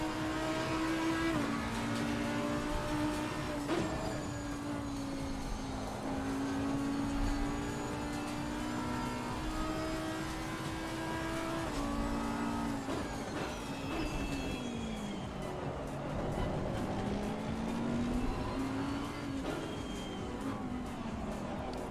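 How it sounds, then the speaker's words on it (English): A GT3 race car engine in the racing game Assetto Corsa Competizione drones loud and continuous, its pitch rising through the gears and dropping on shifts and braking. "I'm in a GT3 car again"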